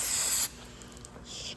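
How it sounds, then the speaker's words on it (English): Brake cleaner sprays from an aerosol can onto Honda CR-V front brake parts, a short, close, sharp hiss cutting off abruptly, followed by faint background noise. "just using some brake cleaner here, washing all the crud and junk out of these boots"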